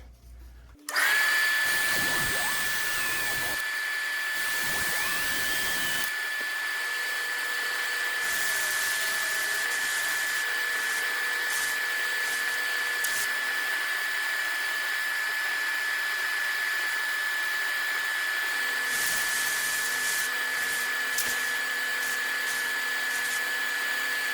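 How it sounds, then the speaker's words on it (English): A small rotary tool with a cutting disc whines at a high, steady pitch as it cuts through a resin wakebait, running loud and continuous for over twenty seconds, with the tone dipping briefly under load. "This thing doesn't cut all the way through it, so I'm going to go with my little cutting disc"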